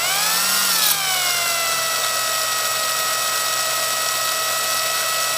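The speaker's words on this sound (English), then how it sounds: "I'm going to run my drill kind of slow" A steady motor whine with tonal harmonics that dip slightly then settle, running continuously and fairly loud, like a power drill turning at low speed.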